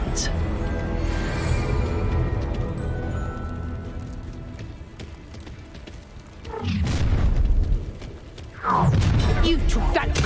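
Spell explosions from Confringo in Hogwarts Legacy come as deep booming bursts with crackling debris, two strong blasts in the later half over a busy game soundscape, while a player talks over it.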